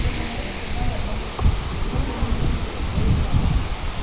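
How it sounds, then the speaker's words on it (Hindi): Broad, steady rushing of a waterfall beside the Kedarnath mountain footpath, continuous and fairly close, with a few bumps and knocks over the wash and no clear talk. "और खूबसूरत झरना"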